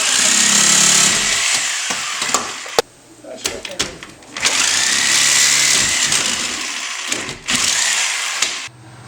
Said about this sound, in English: So now we're gonna use the mother of all power tools. Alright. So I have a reciprocating saw